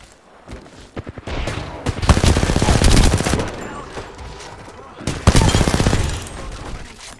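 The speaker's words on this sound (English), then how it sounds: "Getting shot at." Heavy gunfire in the Apex Legends video game, loud close bursts of rapid automatic fire in two main volleys with a quieter stretch between and scattered single shots.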